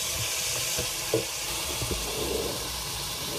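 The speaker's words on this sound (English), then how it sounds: "And then we're gonna stir this up." Food sizzles quietly in a hot pan as it is stirred, giving a steady soft hiss. Faint spoon scrapes and light clicks sit over the frying, with nobody speaking.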